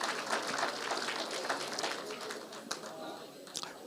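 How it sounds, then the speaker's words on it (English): Steady applause from a teachers' union general council audience, a dense wash of clapping with a few sharper claps near the end, under a faint voice. "A round of applause, my leaders."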